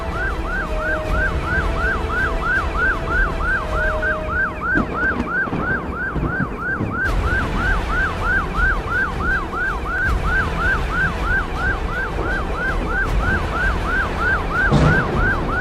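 A Bangladesh Coast Guard boat siren wails in a steady, fast rising-and-falling cycle, loud and continuous throughout, over a low engine and water rumble, with no talking.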